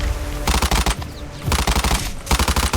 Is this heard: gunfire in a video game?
yes